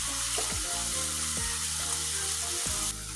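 Seasonings with a little salt fry in hot oil with a bright, steady sizzle, interrupted by a few stirring scrapes, close and loud, with no voices.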